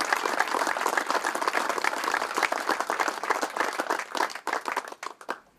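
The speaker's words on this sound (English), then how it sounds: "They should be recognized with a tremendous round of applause." Golf tournament gathering at a trophy presentation at George Wright gives a round of applause, close and lively clapping from a modest crowd with distinct individual hand claps, fading toward the end.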